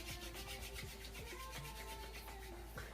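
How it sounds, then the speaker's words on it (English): Palms rubbed briskly together during a yoga session, a close, quiet, rhythmic swishing friction repeated in quick even strokes, with no talking. "Gonna rub the hands together."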